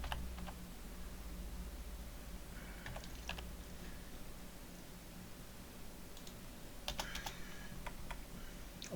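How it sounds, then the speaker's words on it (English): Quiet, uneven typing on a computer keyboard, with scattered key clicks arriving in small clusters over a soft steady background hiss, with no talking. "I type so slowly, it's unbelievable."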